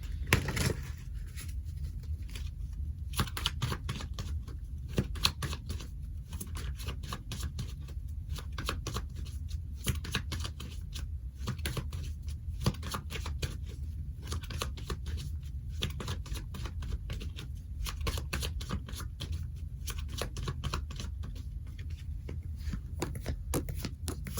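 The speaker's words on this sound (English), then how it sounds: "I'm going to put them back and continue shuffling." Continuous rapid riffling and flicking of tarot cards being shuffled, steady and close, with no talking.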